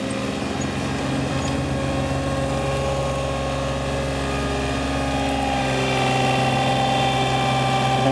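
A 2003 John Deere 3235B fairway mower with a Yanmar 3TNE84 diesel engine runs steadily, a loud continuous engine drone with layered tonal hum that swells slightly toward the end, with no voices.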